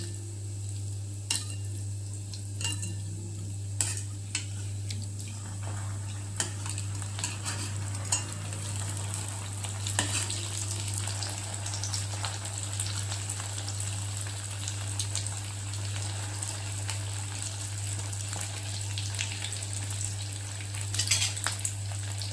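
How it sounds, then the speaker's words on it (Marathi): Fasting balls deep-frying in oil over a low flame, a steady close bubbling sizzle broken by scattered clicks and taps of a utensil against the pan, with no voices. "तळून घ्यायचं, अगदी मंद गॅसवर होऊ देऊया।"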